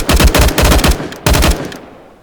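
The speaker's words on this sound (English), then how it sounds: "That's actually going to be Raziz using up all of the ammo in the airfield" Rapid automatic gunfire from a player emptying all ammo at an airfield in the video game Down To One: two loud, sustained bursts of fast shots separated by a brief gap, then fading out, with no talking.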